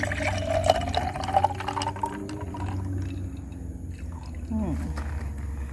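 Freshly juiced sugar cane juice is poured into glasses in a soft, steady liquid stream with gurgles and a rising fill tone near the end, under a voice talking.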